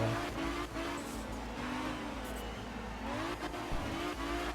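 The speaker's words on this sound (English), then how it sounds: "driving the Celica here" Toyota Celica rally car driving in Art of Rally, its engine revving up and down steadily with gear changes and faint tire noise, loud and close throughout.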